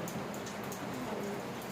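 Steady rain falls close by, a dense even patter of drops with no talking over it.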